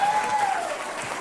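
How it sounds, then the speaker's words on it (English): An audience claps for a junior band at a live concert, a brief, fairly close burst of many hands with a faint sustained tone fading beneath it. "they do deserve a clap for that"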